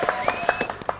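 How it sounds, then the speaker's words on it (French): A studio audience at a French TV comedy show claps briefly, a short burst of scattered applause with a few distinct hand claps. "on va l'applaudir"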